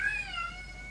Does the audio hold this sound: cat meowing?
yes